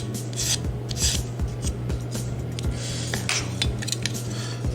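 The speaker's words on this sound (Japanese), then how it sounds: "軽く削ってあげればなんとかなるレベルですね" Light rasping of a file shaving burrs off an old Tamiya plastic model kit part, quick repeated close strokes with a steady low hum underneath.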